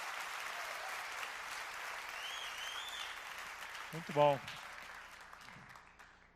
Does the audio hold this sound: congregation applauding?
yes